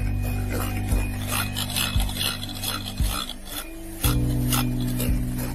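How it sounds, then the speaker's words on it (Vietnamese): Two beater sticks whip egg whites in a circular motion for a rice-cooker sponge cake. A steady motor-like hum carries rhythmic scraping swirls about once per second, close and without talk. "Bắt đầu từ đáy mình di chuyển hai cái que này theo vòng tròn và lên trên mặt trứng"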